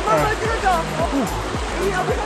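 River water rushes and splashes in a constant loud roar during a hike across a river in Zion National Park, with voices and splashing footsteps in the water.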